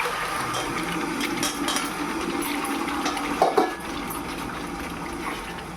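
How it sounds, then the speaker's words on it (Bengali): Chicken for Peshawari chicken poured into a cooking pan, a soft wet slide and splash with a brief louder clatter midway, over a steady background hiss. "এবার চিকেনটা এর মধ্যে ঢেলে দেব, এর মধ্যে চিকেনটা ঢেলে দিচ্ছি।"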